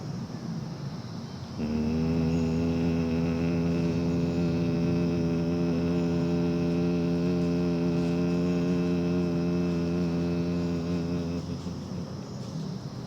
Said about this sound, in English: while exhaling, humming sound with inner gaze upward